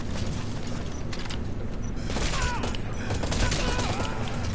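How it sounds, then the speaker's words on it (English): Machine gun fire rattles in a PS4 video game, with dense, noisy bursts crackling over a rumbling battle backdrop, loudest in the second half, while a voice talks underneath. "Machine gun! Machine gun!"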